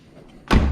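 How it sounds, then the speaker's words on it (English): Car door shutting on an R33 Skyline sedan fitted with coupe side skirts, a single solid close thud after a quiet moment, loud and alone. "Doors open, shut."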